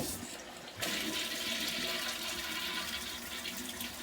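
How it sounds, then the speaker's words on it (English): A marine toilet on a boat flushes as the bowl is emptied, with a steady, loud rush of water draining down the pipes to the holding tank. It starts abruptly after a short quiet moment and runs on without a break. "run some water down as part of the flush to make sure everything has flowed down the pipes into the tank"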